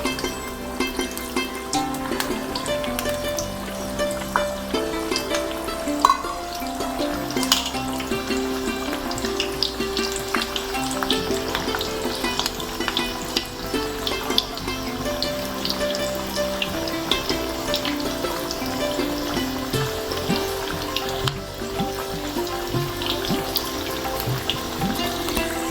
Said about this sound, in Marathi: आता एक एक वडा आपण तेलामध्ये तळायला